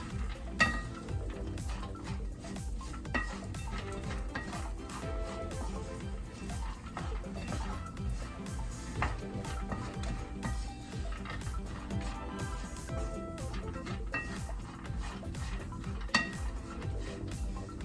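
Walnuts toast in a pan while being stirred for homemade walnut candy with condensed milk. The result is a steady, continuous scraping and rattling with faint sizzling and occasional clinks of the utensil on the pan, close and even throughout.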